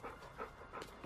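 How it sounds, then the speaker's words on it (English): A dog pants quietly in quick, rhythmic breaths, faint and close, with no other sounds present. "dog needs to be on a leash. He's a runner."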